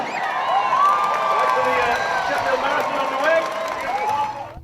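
A crowd cheers and whoops at the start of a half marathon, a loud, dense wash of shouting voices that holds steady before tapering slightly at the end.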